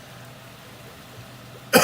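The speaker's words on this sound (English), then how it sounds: "I'm just going to cough." A single short cough bursts out at the very end after a stretch of near silence, close and fairly loud, from a person who has been chatting during a live card-making demo.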